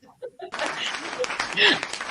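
An applause sound effect plays, a burst of clapping and cheering from a crowd that swells after a brief voice, moderately loud, with talking mixed in.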